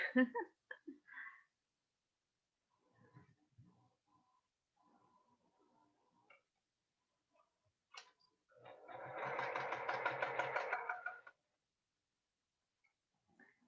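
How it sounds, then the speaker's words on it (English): A sewing machine stitching quilt block centre pieces of Liberty fabric runs in one steady whirring burst of about two and a half seconds, close by. Faint handling noises and scattered clicks come before it in a quiet room. "So I'm just sewing all of these center pieces together."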